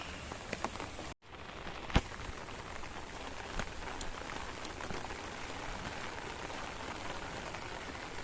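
Steady rain falls with a dense, even patter throughout, broken by a brief dropout and a single sharp tap partway through.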